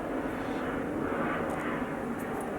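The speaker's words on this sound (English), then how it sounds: "I was busy with airplanes tonight." An airplane passes overhead at night as a broad, steady engine roar, fairly loud and even for the whole stretch, heard from a workbench where a vintage cassette deck is being repaired.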